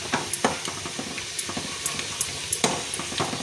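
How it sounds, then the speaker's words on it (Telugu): A tempering for drumstick leaf dal fries in oil until reddish, with a steady sizzle broken by sharp clicks and scrapes of a spoon stirring against the pan. "ఎర్రగా వచ్చేంత వరకు వేయించుకోవాలండి"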